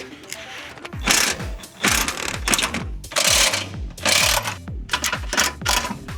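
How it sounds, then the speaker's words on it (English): A 19 mm socket on a ratchet wrench loosens the subframe bolts on a Nissan G35/350Z, with rapid clicking ratchet bursts in several close, loud strokes separated by brief pauses. "now we can take a 19 mil, loosen the 4 bolts that are holding the subframe in"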